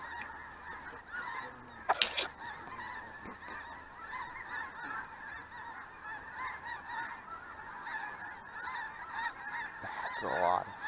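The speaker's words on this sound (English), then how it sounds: "That's a lot of freaking birds." A large flock of geese honks continuously in Kansas, dense overlapping calls layered near and far over open-air noise, with a few sharper honks standing out.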